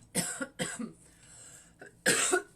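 Three sharp coughs, two close together at the start and a heavier one after a short pause, loud and near.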